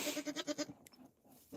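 A goat at a birthing with newborn kids gives a quick run of five or six short, nasal bleats, fairly close but quiet, then falls nearly silent with faint background noise.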